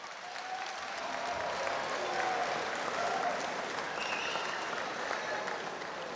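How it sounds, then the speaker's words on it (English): A fight-night crowd applauds two fighters after a 62kg bout, steady moderately distant clapping across the hall with a little murmur underneath. "can we please have a round of applause for these two fighters?"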